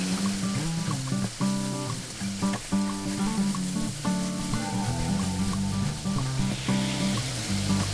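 Potatoes and green beans go into a hot pot for an iron-pot chicken dish, sizzling steadily under louder background music with occasional stirring knocks.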